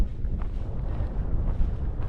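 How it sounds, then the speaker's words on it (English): Strong, biting wind on a mountain fell in the Grasmoor area, a close, constant low roar buffeting the microphone with uneven gusts and no voices. "It's got really windy and there's a right bite in that wind"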